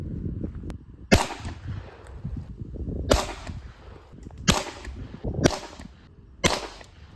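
Five sharp Glock pistol shots fired at a target outdoors, each a loud close crack with a short decay, spaced irregularly about a second or two apart, with no talking.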